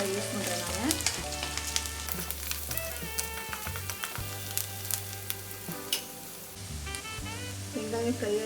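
Onions fry in a hot iron kadai, a soft continuous sizzle running beneath louder background music with steady bass notes.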